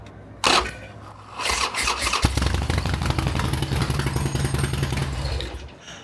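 A Harley Sportster motorcycle engine starting: a click and brief whir, then the starter cranks and the engine catches into a loud, rumbling, lumpy idle close by.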